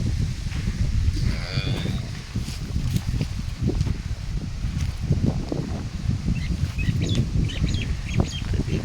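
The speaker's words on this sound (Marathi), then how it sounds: "इकडे आपली गाय" Cattle low repeatedly outdoors on a farm field, deep and fairly close, with rustling, faint birdsong and scattered knocks around them; no talking.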